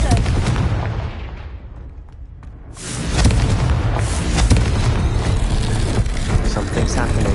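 Confringo fire spell blasting in the Hogwarts Legacy video game: a loud, booming explosion with a rumbling tail that fills the scene, following a quieter stretch, with no voice heard over it.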